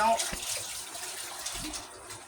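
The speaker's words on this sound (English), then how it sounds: "I'm going to go to the sink and wash my hands" Hands washed under a running tap at a kitchen sink, a steady splashing rush of water close by, louder at the start and easing slightly toward the end, with faint thumps from handling.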